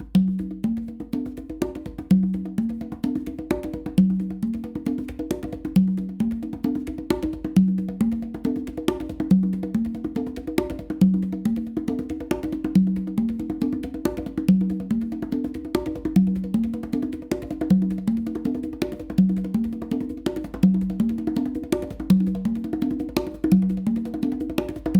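A conga warm-up pattern played on five drums, a steady rhythmic cycle of warm hand strokes repeating evenly for the whole stretch, close and alone without speech.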